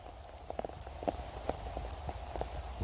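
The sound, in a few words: heavy rain falling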